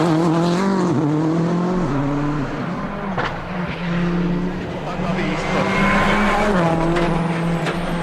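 A rally car on a tarmac stage in France accelerates hard, its engine note rising through the gears, with a brief tyre squeal; the loud, close engine runs under a commentator's voice.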